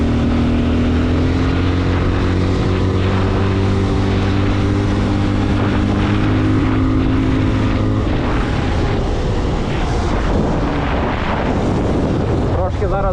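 A TEKKEN 300 motorcycle at top speed on a highway during break-in, a loud steady engine drone with strong rising harmonics and heavy wind rush filling the whole span, no talk.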